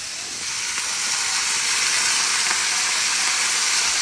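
Beef and charred peppers sizzle hard in a hot pan for a black pepper steak, a steady loud hiss with no pauses and no voices.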